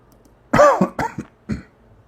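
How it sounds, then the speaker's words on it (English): A man coughs in three or four harsh bursts, close and loud, with short gaps between them and nothing else going on around them. "Sorry for coughing."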